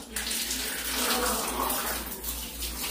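Cold water runs from a tap in a steady splashing stream, fairly loud and close, continuing throughout with a low hum underneath.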